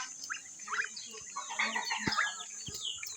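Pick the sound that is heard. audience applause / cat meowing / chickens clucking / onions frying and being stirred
chickens clucking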